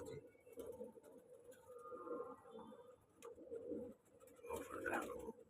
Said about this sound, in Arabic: اهو فرد الحمام اهو